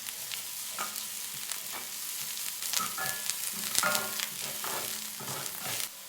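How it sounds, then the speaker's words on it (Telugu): Onions, green chillies and curry leaves frying in oil, a steady close sizzle with soft stirring scrapes throughout, fairly quiet. "ఉల్లిపాయలు దూరగా వేగిన తర్వాత చీరికలు తీసుకున్న పచ్చిమిరపకాయలు కూడా వేస్తున్నాను"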